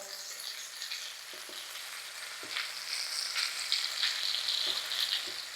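Pieces of paneer sizzle steadily in a hot pan, the frying hiss growing louder, with occasional soft clicks of a spatula.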